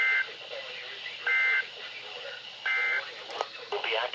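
Weekly test broadcast on NOAA Weather Radio All Hazards, with a steady electronic warning alarm tone sounding in three separate bursts of about a third of a second each, heard over faint static and noisy radio reception.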